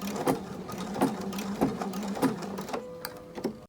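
A sewing machine reinforce stitches a potholder in a few quick, closely spaced bursts of rhythmic stitching, near and clear, then stops.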